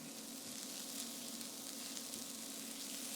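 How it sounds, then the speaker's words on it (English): Salted onions sauté over medium heat in a pan, making a soft, even sizzle that runs steadily without stirring or voices. "Just keep an eye on the onions and let it saute for about 15 minutes."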